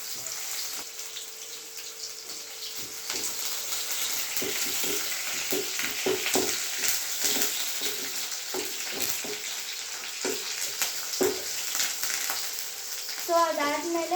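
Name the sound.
frying in a pan until it browns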